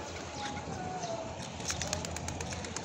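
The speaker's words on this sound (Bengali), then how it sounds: "একটা কবুতর আমার ভয় পায় না" A pigeon cooing close by, soft low calls under faint background activity and light ambient noise.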